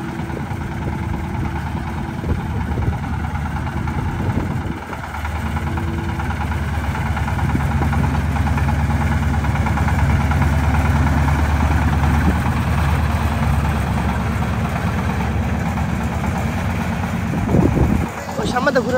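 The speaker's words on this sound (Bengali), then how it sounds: "আমরা নিচে নামায় গিয়ার বক্স একটু চেক করবো যে গিয়ার বক্সের শক্তি কেমন" Corn threshing machine with a gear box running steadily in a field, a loud continuous engine drone with a constant low rumble throughout and a brief louder surge near the end.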